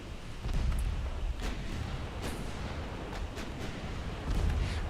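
Naval gunfire in Ultimate Admiral Dreadnoughts as a shell strikes a ship's rear gun and knocks out its engines, rendered as a low rumbling din with scattered sharp bursts and booms, moderately loud and continuous.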